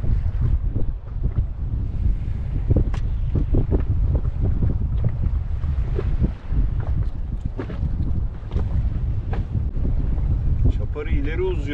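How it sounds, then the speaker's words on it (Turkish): Strong wind buffets the microphone in a steady low roar, with creaking and splashing from a small inflatable boat on open sea water. "Çok rüzgar hızlı götürüyor beni."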